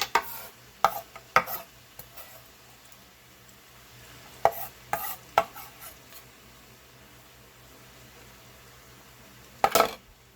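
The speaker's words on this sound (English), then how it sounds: "Get this stirred up really good" Cabbage roll casserole stirred in a metal pan, a few clusters of sharp scraping clinks from a utensil knocking the pan, spaced apart with quiet gaps between, close and without talk.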